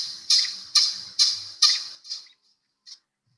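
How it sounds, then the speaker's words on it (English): An adult American pika giving a long call: a series of five sharp, nasal squeaking chirps in steady rhythm that fade as they go, followed after a pause by one faint final squeak. "Here is an example of an adult pika making a long call."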